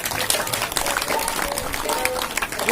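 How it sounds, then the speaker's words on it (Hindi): Audience at a Guru Purnima ashram gathering applauding loudly, a dense steady patter of many hands clapping throughout, with faint voices underneath. "जोरदार ताली बजाइए।"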